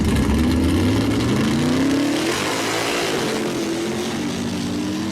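A powerful mud truck engine roars and revs hard at a modified mud truck shootout, its pitch climbing as it accelerates, loud and close with a constant rumbling background.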